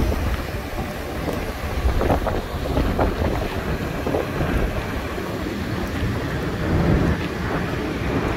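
A generator runs on a 2009 Jayco Embark QX390 Super C diesel motorhome on a Freightliner chassis, giving a steady, close, broadband rumble mixed with wind buffeting the microphone.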